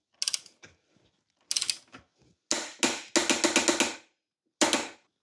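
A torque wrench tightens a lock nut on crash bars fitted to a BMW R1300GS motorcycle, giving sharp ratcheting clicks in short bursts, then a rapid run of loud, close clicks, with quiet gaps between and no talking.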